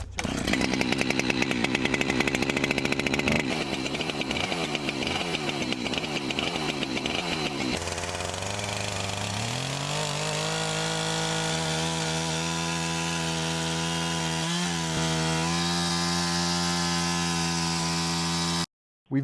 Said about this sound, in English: the next step I think is to cut a path through the ice with the chainsaws